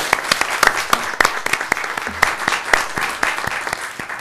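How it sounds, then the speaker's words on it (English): Applause from a crowd at a Board of Education meeting, many hands clapping at once in a dense, steady patter that continues throughout. "That deserves a round of applause"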